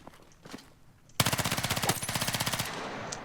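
SMG automatic fire in Battlefield 6, a single rapid burst of about twenty evenly spaced loud shots lasting roughly a second and a half, preceded by quieter game sounds.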